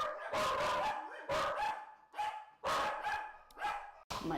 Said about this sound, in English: FedEx just got here. My dogs are gonna go crazy.